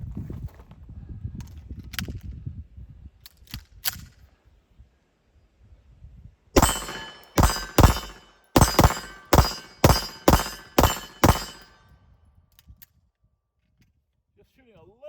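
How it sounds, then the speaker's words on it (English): A series of sharp, ringing metallic clangs from a freshly ported Bul SAS Air pistol, shots striking a steel target; about eight impacts come in a quick uneven cluster after a few quieter earlier pings, each ringing briefly before the next. "The Bul SAS Air, just recently back from getting some porting, so these are the initial shots"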